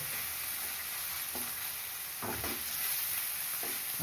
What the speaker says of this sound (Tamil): வெங்காயம் வதங்கினது போதும்.